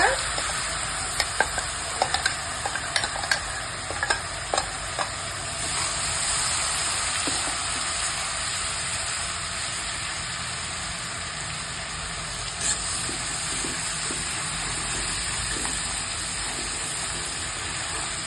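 Steady loud sizzling of ginger garlic paste frying in hot oil, with occasional stirring clicks early on, continuous and close with no voices.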